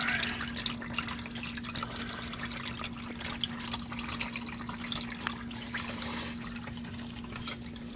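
Engine oil drains from a car into a pan, a faint, steady trickle and drip close by, alone and without talk.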